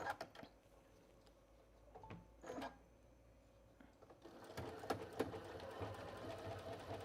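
A semi-industrial Juki straight-stitch sewing machine runs with its dual feed engaged, giving short bursts of quiet stitching and then a longer steady, faint mechanical whir close by.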